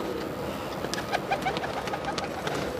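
Pigeons at a pet shop coo softly in short, repeated low calls against a background of rustling and ambient noise.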